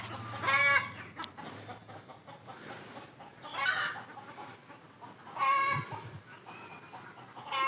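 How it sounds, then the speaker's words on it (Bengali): Many chickens cluck and squawk in a home fruit garden, with several louder bursts of calls rising over a steady background of softer clucking. "অনেক মুরগি আছে ভিউয়ার্স,"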